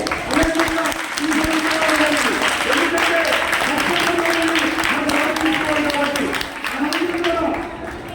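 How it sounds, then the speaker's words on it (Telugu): Applause at a public ceremony honouring a local corporator: a sustained wash of clapping from a crowd through most of the moment, with a person speaking over it. "ఆమె గట్టిగా చప్పట్లు పడ్డాలి."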